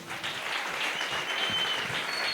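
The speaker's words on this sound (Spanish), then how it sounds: "me gustaría que acá Joel Guzmán, le pido un aplauso a Joel." An audience breaks into steady applause at a public gathering in Argentina, with dense, continuous clapping from many hands throughout, close and fairly loud.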